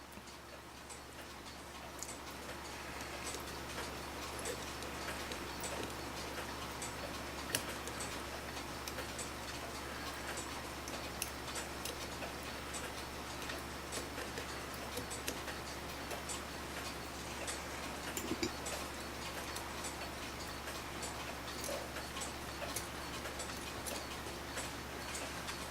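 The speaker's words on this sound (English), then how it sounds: "the proper or even sound of the tick-tock, tick-tock" Steady, even tick-tock of a 1909 Gustav Becker clock movement, close and continuous against a low hum, with no voices.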